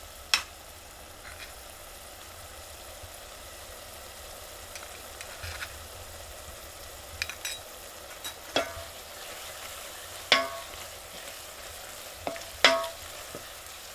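Dry red chilli fries in a pan with a soft, steady sizzle. Sharp crackles and pops break through now and then, growing more frequent toward the end, with no talking.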